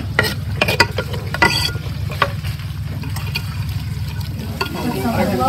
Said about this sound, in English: Now we're adding the chopped onions to the melted butter.